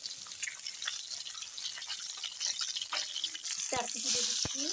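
Fish sizzles and spatters as it fries in a pan of hot oil, a steady crackling hiss broken by a few sharp clinks and stirring clatter near the end.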